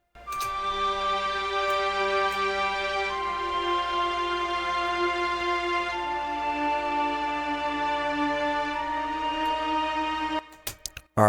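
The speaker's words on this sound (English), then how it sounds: "that is the string orchestra section" Layered string orchestra section for a liquid drum and bass track, sustained bowed chords and harmonies holding steadily for about ten seconds, loud and full, then cutting off abruptly near the end.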